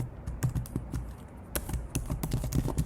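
Someone types on a computer keyboard nearby: quick, irregular bursts of crisp key clicks, with a few heavier strokes like a spacebar or enter key. No one speaks.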